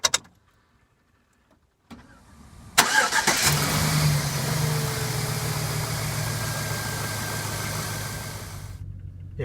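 A Chevy Trailblazer engine is cranked after a short silence and a click, catching at once with a loud burst, then settling into a steady close idle that gradually quiets.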